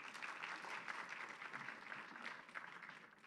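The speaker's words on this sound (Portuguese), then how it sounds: "Uma salva de palmas para a nossa colega virtual" A room at a geography teaching conference book launch breaks into applause, a steady, fairly distant patter of many hands clapping that holds for a few seconds and eases off.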